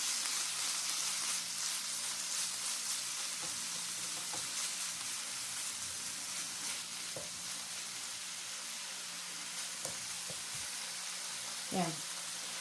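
Beef seasoned with sake, shoyu, mirin, a little sugar and sesame oil sautéing in a pan, a steady soft sizzle with occasional stirring scrapes, close and continuous, a brief voice sound near the end.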